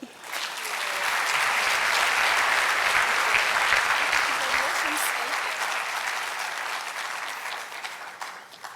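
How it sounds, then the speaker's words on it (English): A school senior recognition assembly audience breaks into applause for a new scholar, clapping swelling up within a second and holding full and steady before tapering slightly near the end. "a big round of applause"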